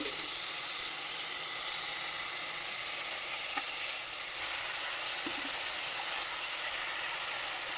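Prawns and onions with Malabar spinach sizzling steadily in a pan, a constant close hiss with faint occasional clinks, no voices.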